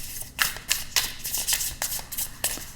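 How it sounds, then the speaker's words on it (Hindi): Tarot cards are shuffled by hand up close, giving a series of quick, crisp riffling bursts in an uneven rhythm over about three seconds, with no talking. "So let me pull some tarot cards here now."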